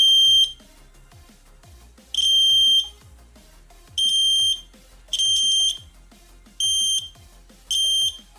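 A homemade SMD component tester probing a low-value fuse resistor gives a series of loud, shrill electronic beeps, each lasting about half a second, with quiet gaps and faint soft clicks between them.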